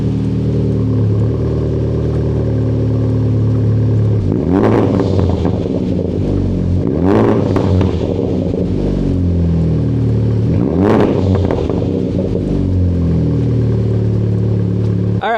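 A Honda Civic Type R with an AWE exhaust and PLM parts idles loudly, then is revved hard three times, each rising roar and fall-back separated by a steady burbling idle, with no talking.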